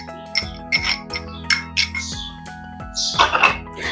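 Spoon clinking against a bowl while curd marinade is mixed with mushrooms for a mushroom masala, a run of close, irregular metallic clinks and scrapes with steady background hum, no talk.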